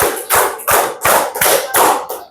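A group claps in a steady rhythm during a classroom activity, the sharp hand claps coming in quick even bursts, loud and close, with no talking over them.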